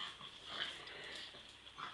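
A small dog whimpers and makes short, high yipping sounds close by, fairly continuous with a few sharper peaks.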